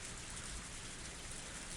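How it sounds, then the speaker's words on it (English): Heavy rain pours steadily and loudly at close range, a dense unbroken hiss with no voices over it. "the sound of the engine faded into the sound of the heavy rain"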